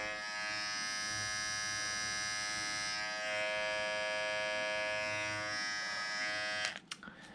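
A steady high-pitched Philips MG7770/15 electric shaver, about a year old, hums continuously up close, running smoothly before cutting off with a brief clatter at the end.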